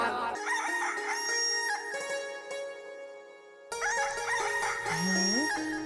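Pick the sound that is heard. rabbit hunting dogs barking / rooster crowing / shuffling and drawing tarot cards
rooster crowing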